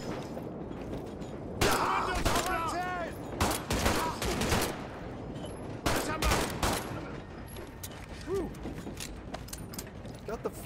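Gunfire in Medal of Honor: Above and Beyond, a WWII shooter: bursts of shots and clanking weapon mechanisms come in spaced clusters over game ambience, with a few ringing metallic tones between them.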